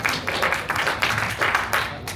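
Audience applause at a church organisation meeting, a short burst of uneven clapping with irregular swells, moderately loud and close.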